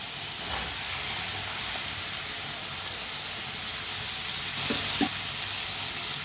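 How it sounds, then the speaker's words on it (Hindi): Finely chopped turnips stirred into sizzling masala in a Punjabi-style shalgam dish, a steady loud hiss of frying with a couple of brief spoon scrapes and clinks near the end. "शलजम डाल लेंगे बारीक कटे हुए।"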